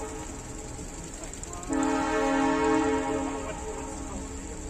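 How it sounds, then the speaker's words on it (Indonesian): A train in Skagway, Alaska sounds a loud, sustained horn blast that starts abruptly partway through and holds for about a second before easing back into a steady rumbling background. "suara keretanya uh keras sekali"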